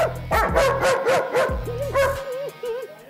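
A dog barks close by in a quick run of sharp barks and yips, several bursts in rapid succession with brief pauses between.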